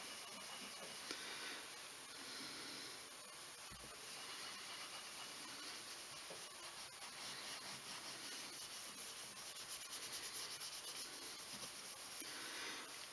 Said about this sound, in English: I'm just kind of taking the steel wool and just kind of going over stuff